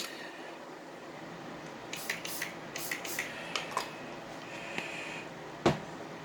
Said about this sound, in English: I'm going to wet it with my Maybelline Lasting Effects spray.